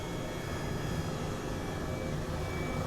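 Steady, loud whining roar of an Airbus H135 helicopter engine in a flight simulator, a dense continuous drone with faint high tones and no pauses.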